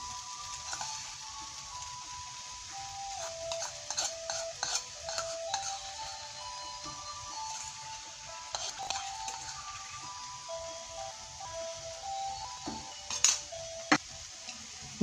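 Tofu frying in a pan for a simple vegetarian stir-fry with pickled mustard greens: a soft, steady sizzle under scattered light clinks and scrapes of a utensil stirring.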